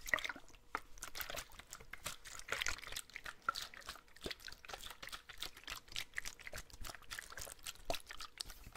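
A gym water bottle is handled close up in a whispered setting, with crisp plastic crinkles, taps and small sloshing liquid movements in a dense, irregular stream of near, fairly quiet sounds.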